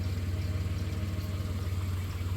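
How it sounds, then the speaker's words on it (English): A 1993 Dodge Grand Caravan engine idles with slight lifter noise, a steady close low hum with a faint even pulse running throughout, and no voices. "that gray van makes a little lifter noise"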